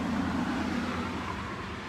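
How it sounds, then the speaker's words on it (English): A steady roadway rumble of vehicles passing, faint and continuous, with no distinct horns or voices. "with all these cars going down the road"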